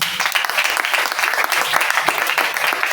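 A church congregation applauds and cheers in praise of the Lord, a dense, steady wash of clapping lasting a few seconds with no voice speaking over it.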